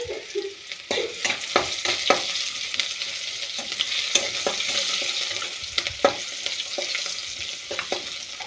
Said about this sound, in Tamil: எண்ணெய் காஞ்சதும் கடுகு போட்டுக்கலாம்.